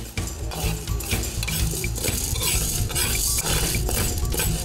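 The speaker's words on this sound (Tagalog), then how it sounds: "Una munang tutustahin ang munggo." Mung beans toasting in a pan for lelot balatong, with a utensil scraping and clinking against the metal in a steady, busy rhythm over a continuous dry rattle of the beans.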